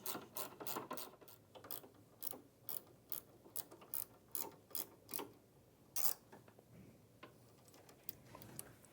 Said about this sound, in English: you can now tighten all 4 shoulder bolts, starting with the linkages